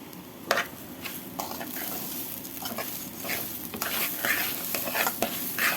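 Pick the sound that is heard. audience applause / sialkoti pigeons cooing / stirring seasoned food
stirring seasoned food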